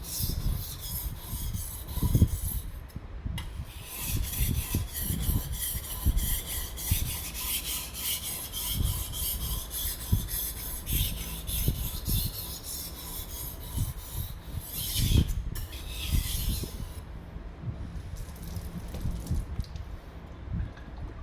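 A chipped knife is drawn over a sharpening stone in a continuous gritty scraping rasp, close and even throughout, with a few brief pauses and strokes and no talk.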